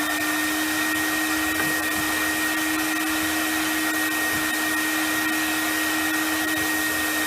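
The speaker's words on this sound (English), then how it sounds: "And then I'm going to vacuum this." A vacuum cleaner runs over a damp carpet that was just scrubbed with a bristle brush, giving a loud, steady motor hum with a constant whine and no voices.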